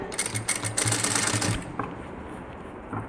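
A sewing machine stitches an Aari work blouse in quick, rattling bursts for about a second and a half, then stops, leaving near silence with a faint tap or two.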